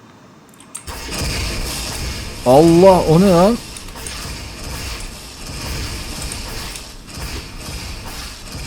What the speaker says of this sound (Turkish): Testerenin içinden geçecekler mi bakalım testerenin.